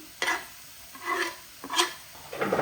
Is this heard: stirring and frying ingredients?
yes